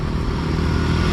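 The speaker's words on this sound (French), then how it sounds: "On va remonter sur notre petite moto taxi, on va essayer de traverser tranquillement." A small motorcycle taxi in Siloé, Cali, Colombia, its engine roaring loud and close with a steady, rough drone and no speech.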